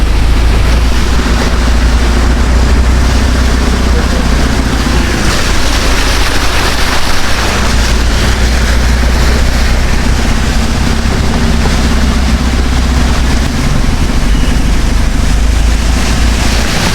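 A vehicle engine churns through deep floodwater after heavy rain, a loud, continuous rushing wash of water with a steady low motor drone underneath, no voices present.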